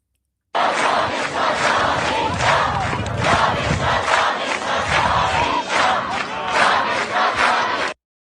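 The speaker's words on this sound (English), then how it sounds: "We have a huge crowd again out today across the country chanting," A huge protest crowd in Iran chants in unison, loud and dense, the massed voices swelling in rhythmic waves that carry steadily from start to finish.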